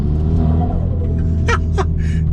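A Hyundai i20N with its gasoline particulate filter removed and a Flow Design body kit rumbles steadily from engine and exhaust, a continuous low drone with a couple of brief higher bursts near the end, no talking.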